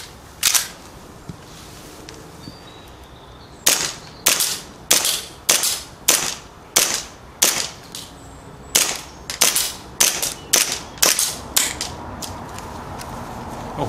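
An airsoft gun firing 0.2 gram BioBalls BBs on a cold day outdoors: sharp, close snapping shots, one early then a rapid run of about fifteen evenly spaced cracks, each with a short tail, with no talking.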